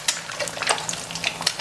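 Eggs fry in a pan as a fried egg and an omelette cook side by side, with brief close crackles and spatters popping irregularly over a soft sizzle.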